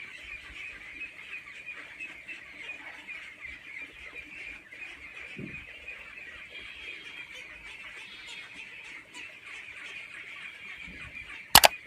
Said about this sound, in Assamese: আমাৰ হাঁহ বন্ধুসকল প্ৰায় ডাঙৰ হৈ গৈছে